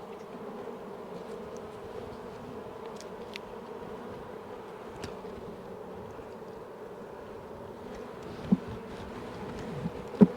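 A queenless colony of honey bees inside an open hive, buzzing loudly and steadily in a dense, agitated drone, with a couple of brief knocks near the end.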